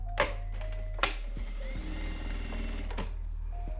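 A sewing machine runs a topstitch seam along a fabric pencil case, a steady close mechanical whir with a couple of sharp clicks near the start, heard alone without talk.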